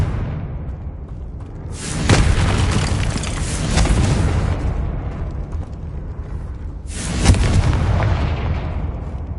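Heavy, booming explosive blasts from the Confringo spell in the Hogwarts Legacy video game, one big burst early, a second around the middle and a sharp final blast, each rolling out over a dense rumbling backdrop.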